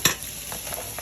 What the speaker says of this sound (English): to my pan. And go my sausage.